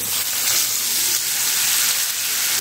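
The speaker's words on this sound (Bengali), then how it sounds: "এবারে এই ডালগুলো পেঁয়াজ আর রসুনের সঙ্গে 2 মিনিট মতো খুব ভালো করে ভেজে নিতে হবে।" Lentils frying with onion and garlic in hot oil, a loud, continuous close sizzle with a faint stir underneath, no voices.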